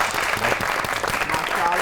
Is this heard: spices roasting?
no